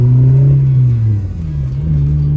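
Right-hand-drive Suzuki Jimny with a manual transmission accelerating, a steady low engine drone rising slightly in pitch, close and loud, with no talking.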